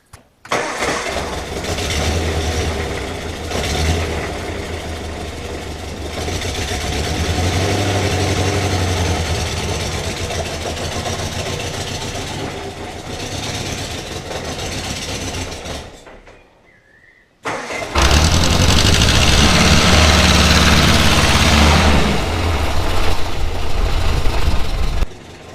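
Morris Minor car engine running and driving off after a coolant leak repair, a steady mid-low engine rumble that drops away briefly near the middle, then returns louder and rougher, close and without talk.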